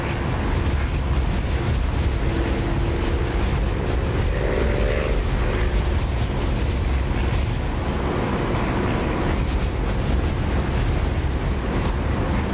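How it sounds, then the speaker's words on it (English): Spitfire engine sound mod in the DCS flight simulator, a loud, steady propeller-engine roar with rushing wind noise filling the cockpit continuously, no talking over it. "downloading the Spitfire engine sound, because it's brilliant"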